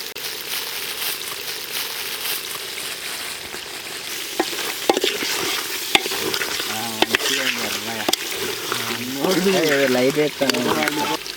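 Chicken curry being stirred in a pan with coriander powder and garam masala at a village cookout, a steady sizzle with scraping stirs and occasional clinks, while a voice talks over it in the second half.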